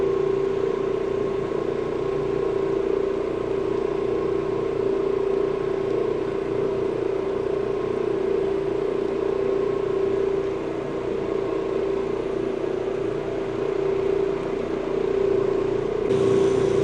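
An Orbot Vibe orbital floor machine makes a dry pass over carpet, giving a steady, even motor whir with a constant hum that holds unchanged throughout, moderately loud and with no talking.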